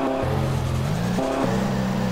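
The engine of a 1980 US-spec Honda Prelude revs in a GTA game, a loud steady drone whose pitch steps down, rises briefly in a quick rev, then settles.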